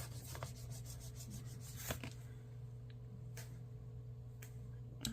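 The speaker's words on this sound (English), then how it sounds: "Let's put the pumpkin sticker down first and burnish that." Soft rubbing and scraping of a burnishing tool pressing a pumpkin sticker onto a paper planner page, close and quiet with a few light taps, over a steady low background hum.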